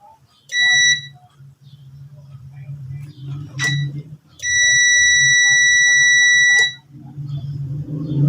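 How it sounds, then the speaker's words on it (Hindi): A tester clipped to a Dungs pressure switch emits high electronic beeps as pressure builds, first a short beep, then a brief chirp and a long sustained tone, while someone talks over a low hum. "जैसे ही इसके अंदर प्रेशर बिल्ड हुआ तो साथ ही बीप बढ़ने लग पड़ी"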